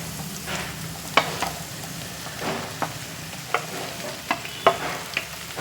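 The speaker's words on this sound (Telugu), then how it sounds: "ఇప్పుడు మనం బెండకాయ ముక్కలు వేసేద్దాం" Okra pieces frying with onions in a pan over a medium flame, giving a steady soft sizzle broken by sharp scraping clicks of a spatula stirring at irregular intervals.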